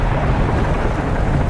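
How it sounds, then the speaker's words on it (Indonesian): A big animated storm roars as a dense, steady wash of low rumbling thunder and wind, loud and continuous throughout with no clear breaks. "Badai gede banget lagi, bre."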